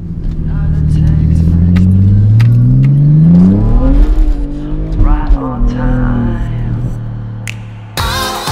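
A car, apparently a BMW, drives and accelerates loudly up close, its engine note climbing steadily through the gears with brief shifts. Voices talk over the engine noise, and a sharp clatter cuts in near the end.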